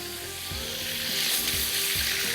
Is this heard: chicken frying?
yes